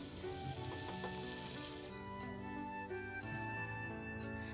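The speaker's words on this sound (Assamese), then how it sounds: "এইখিনি মই ভাজি আছোঁ" Rice and spices with turmeric powder sizzle steadily in a hot pan, a dense continuous frying hiss with faint stirring, close and unbroken with no speech.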